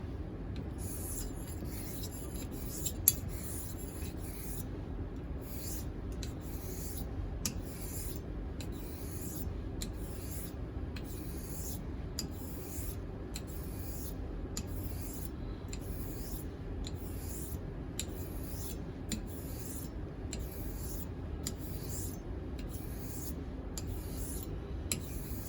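Straight razor honed on a coticule stone, a quiet, regular back-and-forth scraping of steel strokes repeating steadily for about twenty-five seconds at close range, with no voices.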